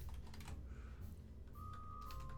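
Keyboard typing in quick, irregular clicks at close range while playing RP-1 Realism Overhaul, with a steady hum of game music and a thin sustained tone underneath; no voices.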